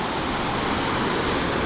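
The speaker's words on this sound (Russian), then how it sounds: "Видите, даже небольшой водопадик." A small waterfall in a stream, a steady close rush of splashing water that fills the whole short stretch with no other sounds.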